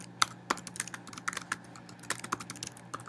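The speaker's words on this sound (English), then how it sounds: "in your message, whatever you type here" Rapid, uneven clicking of keys on a computer keyboard while a message is typed, close and moderately loud, with no voices.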